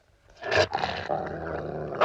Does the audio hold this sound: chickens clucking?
no